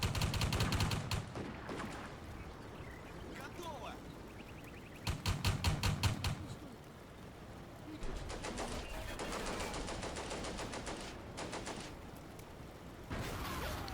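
Combat Mission gunfire rattles in rapid automatic bursts, with a few distinct volleys spread across the stretch and softer chirping in the gaps, all fairly quiet.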